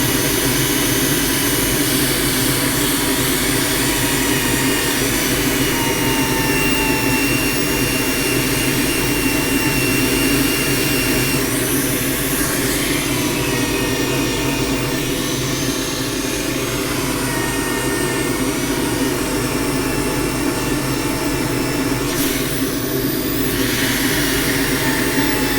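A turned wooden bowl spins on a wood lathe while being sanded with 240 grit paper, a continuous loud whirring drone with steady friction hiss throughout, no speech.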